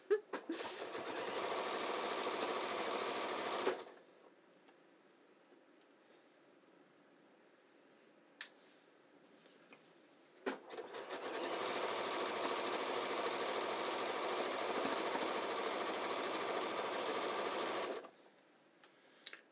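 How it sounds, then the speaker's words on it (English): Sewing machine stitching a zigzag seam on pull-on pants, two long steady runs of rapid mechanical whirring, close and loud, separated by a quiet pause with a few sharp clicks. "out the back just so I get a consistent stitch so my zigs and zags look nice and even"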